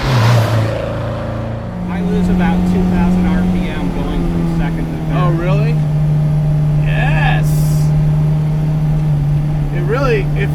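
A restored right-hand-drive 1967 MGB GT engine drones steadily from inside the car while driving, a loud low hum holding near-constant pitch, with people talking over it throughout.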